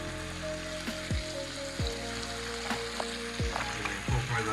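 Nduja sausage sizzles in a pan of stewed tomato sauce with a close, steady crackle, broken by several sharp, evenly spaced descending tones and occasional clinks.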